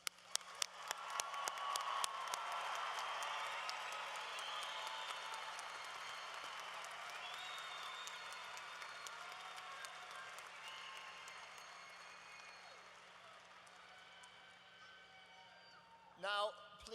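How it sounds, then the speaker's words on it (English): Audience applause for graduates at a university spring commencement ceremony, a dense wash of clapping that swells early and then slowly fades over many seconds, ending with a brief burst of other sound. "Audience, please join me once more in applauding all of our graduates."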